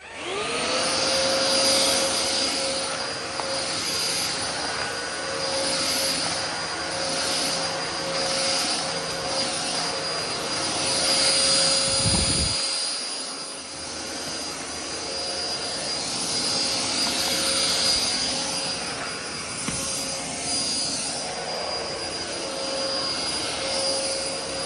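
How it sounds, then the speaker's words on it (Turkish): A household vacuum cleaner runs steadily while cleaning a home with a folded rug, a loud continuous whine and roar close by; it cuts off briefly midway with a low thump, then resumes just as strongly. "Evi süpürdüm. Süpürme işi bitti."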